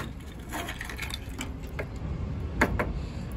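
A broken washing machine drain filter plug is unscrewed, giving faint ratcheting, grinding clicks and scrapes up close, with no talking.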